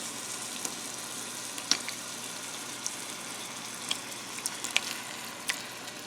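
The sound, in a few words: diced tomatoes being added to cooking chilli mixture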